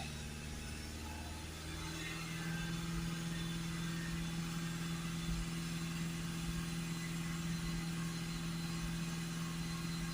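A 2.0 TDI diesel engine in an Audi A6 Ultra with a particulate filter fault code, running with a steady low rumble that rises slightly in level partway through, heard close with no voices.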